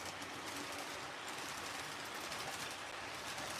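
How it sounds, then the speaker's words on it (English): A train rumbles along in a continuous, even, mid-level drone with a faint rhythmic texture and no talking over it. "you hear the sound of the train rumbling"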